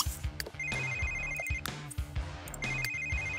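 In The Sims 3, a phone ringtone repeats in short electronic bursts, partly buried under busy, loud background music with drum hits. No one speaks.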